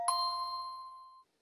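On a French television quiz show, a single bright gong or chime is struck for a correct answer, ringing out clearly and decaying smoothly over about a second before cutting off.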